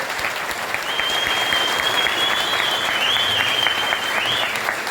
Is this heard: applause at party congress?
yes